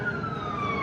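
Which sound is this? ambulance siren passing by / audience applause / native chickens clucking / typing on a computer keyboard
ambulance siren passing by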